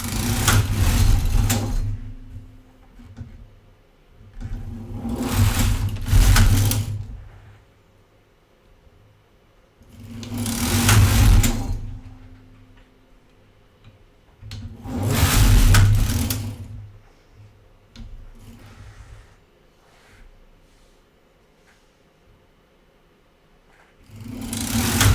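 A knitting machine carriage is pushed back and forth across the bed knitting a tuck stitch rib, making five loud whooshing, rattling passes a few seconds apart with quiet gaps between.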